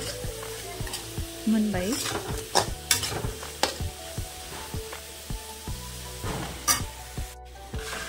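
Potato pieces frying and being stirred in a pan for a Korean-style noodle dish, giving a steady sizzle with repeated clacks and scrapes of a utensil against the pan, close and fairly loud, with a brief word spoken.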